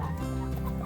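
Backyard chickens clucking together at evening chore time, a steady low murmur of close clucks and cackles with no talking.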